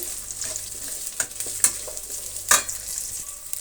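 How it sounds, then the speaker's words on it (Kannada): Thickly sliced onions fry in a pan for fried rice, a steady sizzle punctuated by a few sharp spatula scrapes and clinks, close and moderately loud. "ಉದ್ದುದ್ದಕ್ಕೆ ಕಟ್ ಮಾಡಿಕೊಂಡಿರುವಂತಹ ಈರುಳ್ಳಿ ಚೆನ್ನಾಗಿ ಫ್ರೈ ಆಗಲಿ."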